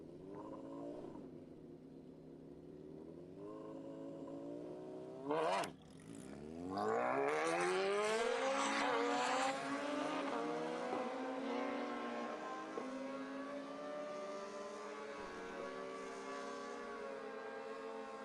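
Motorcycles launch down a drag strip in a bracket racing class, a loud rising engine howl sweeping up through gears after a short quiet stretch, then holding a strong steady roar as the bikes race away.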